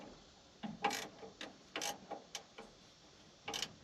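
Ratchet wrench clicking on a 1981 Chevrolet Camaro under repair, heard as a handful of short, sharp bursts spaced irregularly apart, close by and fairly quiet against a still background.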